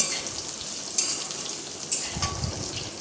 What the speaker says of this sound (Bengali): এভাবেই সয়াবিনগুলো নেড়ে চেড়ে লাল লাল করে আমরা ভেজে নেব।